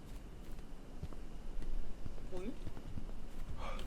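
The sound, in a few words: footsteps in a video game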